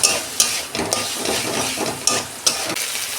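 Tomato frying with ginger-garlic paste in a pan for a prawn and potato curry, a loud steady sizzle with a utensil scraping and stirring in repeated strokes, close up with no talking.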